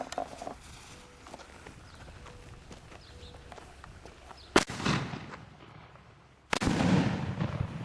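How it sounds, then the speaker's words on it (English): A toy cannon fires a regular canister shell, two sharp, loud booms a couple of seconds apart, the second followed by a rumbling tail, after quiet rustling and footsteps. "this is the cannon shooting a regular canister shell"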